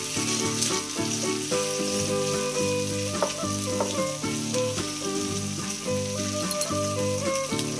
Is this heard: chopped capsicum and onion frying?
yes